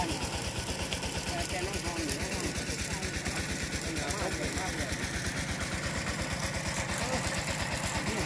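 An engine-driven water pump drains a pond so villagers in rural Isan, at Ban Yang Yai in Sisaket, can catch fish and crabs. The engine chugs loud and close in a rapid, even thumping rhythm that never lets up.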